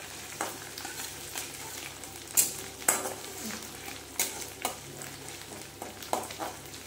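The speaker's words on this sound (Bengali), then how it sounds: "আদার যে কাঁচা ভাবটা সেটা সরে গেলে এবারে দিয়ে দেবো টমেটো কুচিটা।" Chopped tomato stirred in a frying pan with ginger for a pointed gourd curry, a soft continuous sizzle broken by sharp scrapes and clinks of a utensil against the pan.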